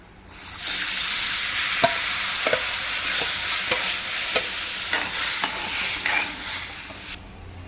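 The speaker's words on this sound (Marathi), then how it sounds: "आता आपण हे फोडणीला घालणार आहोत" Steady hiss of ground and whole horse gram frying in hot tempering oil, with a spoon scraping and tapping the pan every second or so.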